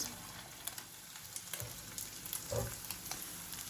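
Dried mulberries cooking with eggs in a pan give a steady, faint frying sizzle throughout, with occasional soft stirring clicks and scrapes, no talk.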